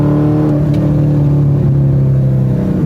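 Modified 1999 Chevy Camaro V8 engine rumbling loud and close, a deep steady idle with a slight rise in revs, heard alone without talk.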